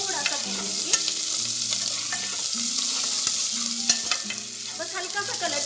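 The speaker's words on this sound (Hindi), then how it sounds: "अब हम इसमें डालेंगे प्याज, हल्का सा इसको कलर चेंज करते हुए हम थोड़ा सा भूनेंगे" Onions fry and are stirred in a pan, a loud close sizzle with repeated scraping strokes of a spoon across the metal, steady and continuous without talk.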